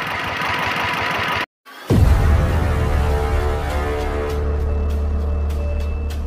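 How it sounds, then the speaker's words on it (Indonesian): A Chinese Swan R100 single-cylinder direct-injection diesel engine runs close by with a steady loud chugging rumble, broken by a brief silent cut before the engine sound resumes. "Kali ini kita akan mereview diesel Cina R100 tapi yang injeksi atau direct."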